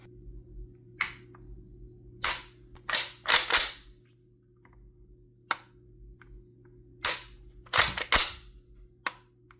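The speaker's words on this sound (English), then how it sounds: "Let's take a look at this improved trigger action." A semi-automatic MP5 trigger, adjusted to single stage, is dry-fired in a series of sharp mechanical clicks, some single and some in quick pairs, close and crisp over a low steady hum.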